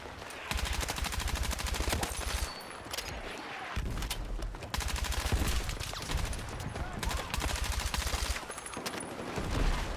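Bursts of automatic rifle fire and scattered shots in Battlefield 6, loud and dense, firing in long sustained strings with brief pauses, layered over busy battlefield noise.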